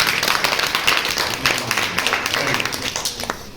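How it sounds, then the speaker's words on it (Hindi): Classroom applause from students during a school science lesson on magnetism: steady, lively clapping from a group that holds for several seconds and then slowly fades. "तो हो जाए तालियां एक बार फिर से।"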